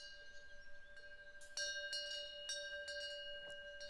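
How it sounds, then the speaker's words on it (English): Soft chimes ring inside a quiet temple, with several gentle bright strikes over a sustained tone and light ticking chirps against a hushed background. "the sound of the birds chirping and the soft chimes were all we could hear"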